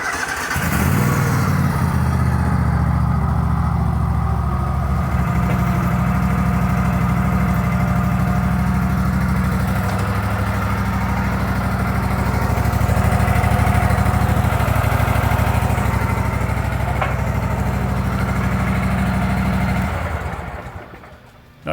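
A BOSS SR MAG snow plow unit's engine runs steadily and loud for about twenty seconds with a deep low rumble as it drives into the back of the plow and raises it, then it cuts off at the end.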